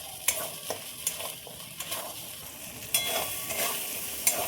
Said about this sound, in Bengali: আবারও খুব ভালো করে ভাজার জন্য নেড়ে দেবো।